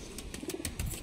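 A fulsira breeder pigeon coos softly and briefly at the Howrah Maidan pigeon market, with a few short close-up throaty calls.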